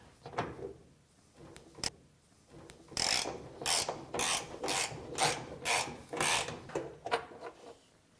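A socket ratchets loose the top bolt of a rear shock absorber on a Samsung washing machine, giving a run of raspy, rhythmic clicking strokes, sparse at first and then rapid and steady, close up with no talking.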